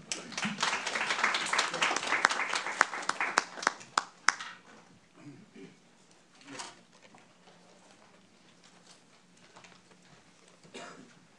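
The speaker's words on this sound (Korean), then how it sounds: "많은 박수 부탁드립니다" An audience at a peace and human rights forum session in Jeju claps warmly, a dense round of applause that thins into a few scattered claps and fades out within several seconds.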